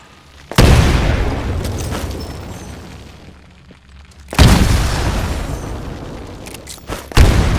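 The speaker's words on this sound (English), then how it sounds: "Throw a grenade into each of the windows." Two loud grenade explosions in the video game Titanfall, each a sharp booming blast with a long rumbling decay, the second arriving about four seconds after the first, followed by another sudden burst at the end.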